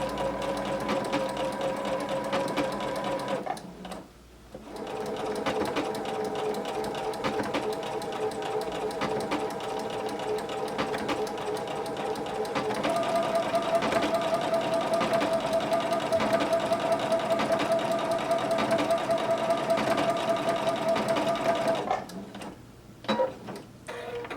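A sewing machine runs steadily while stitching a blind hem on dress pants, a continuous mechanical whir with fast rhythmic ticking and one brief pause near the start, close and alone without talk.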